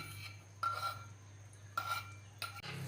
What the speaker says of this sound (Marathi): आता हे आपल्याला मिक्स करत राहायचं आहे